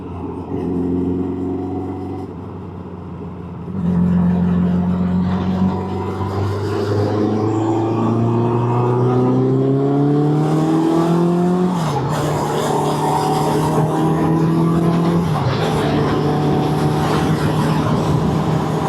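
Suzuki Bandit 600 motorcycle riding along, a steady loud engine drone with rising pitch sweeps as it accelerates through the gears, wind rush over the top and no voices.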